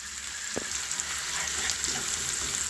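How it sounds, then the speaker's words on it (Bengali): Chopped onion with asafoetida, bay leaf and whole cumin sizzles in hot oil, a steady hissing fry with occasional sharp crackles, close and continuous with no voices. "তেল গরম হয়ে গেছে, দিয়ে দেবো একটু হিং, তেজপাতা দেবো, গোটা জিরে, দিয়ে দেবো পেঁয়াজ।"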